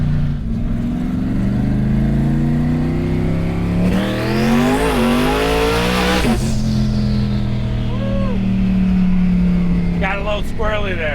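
A 2200HP Jeep Trackhawk SUV on boost accelerates hard in a street race, its engine note climbing to a loud roaring peak before easing off. The roar stays close and steady throughout, and people talk over it.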